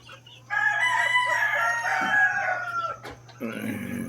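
Boston roundhead gamefowl roosters crow on a farm: one long, loud, close crow, then a shorter crow from another bird, with faint clucking around them.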